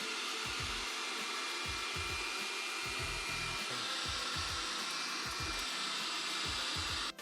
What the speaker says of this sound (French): on a l'option aspirateur et on peut commencer à aspirer